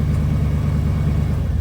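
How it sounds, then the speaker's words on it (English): A plow truck's engine rumbles low and steady as the truck is moved away from a barn during an ice storm, a continuous close idle with no voices over it. "we're just going to move the plow truck away from the barn"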